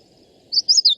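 A common yellowthroat warbler gives a short, high, clear chirping phrase of a few quick rising-and-falling notes, close and loud over a faint low background hum.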